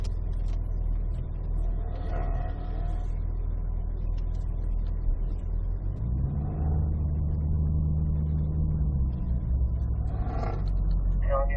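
A car on an autocross course, engine droning steadily at a distance, with a rise in revs as it accelerates midway and a faint voice at the start.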